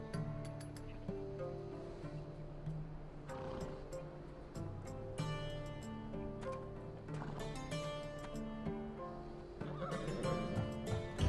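A horse in Assassin's Creed Odyssey whinnies several times over soft hoof clops and ambient game sounds, fairly close and moderately loud.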